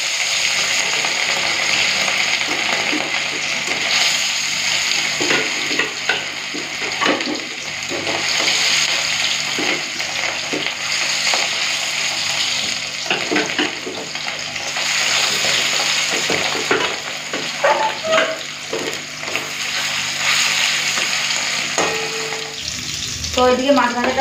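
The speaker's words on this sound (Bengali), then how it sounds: "এরপরে কাতলা মাছগুলো তেলের মধ্যে দিয়ে ভেজে নেব।" Pieces of catla fish fry in hot oil, giving a loud, continuous sizzle and crackle that carries on steadily for the whole stretch, with occasional clinks and stirring noises.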